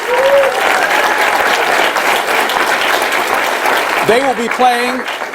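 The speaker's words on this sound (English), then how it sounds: "Let's give them a round of applause" Audience applause for the Southwest Jazz Band fills a classroom auditorium, a steady dense ovation that holds throughout before a voice begins speaking near the end.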